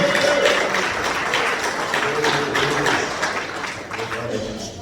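A church congregation applauds in a dense, continuous patter of many hands that slowly eases off toward the end, with faint voices underneath.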